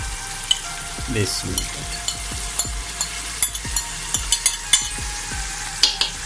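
Ginger garlic paste sizzling and frying in a hot pan, with steady crackling and repeated stirring scrapes and taps throughout.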